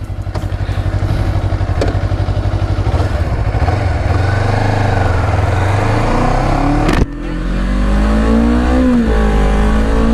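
A Honda CBR250RR motorcycle engine revs loud and close throughout a ride, a steady throbbing drone that climbs and falls in pitch with a sharp shift break midway, then pulls up again.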